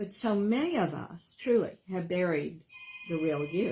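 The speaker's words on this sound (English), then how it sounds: "I'm sorry about the phone ringing." A telephone rings in a radio studio during a live talk show, steady electronic tones appearing near the end beneath someone speaking.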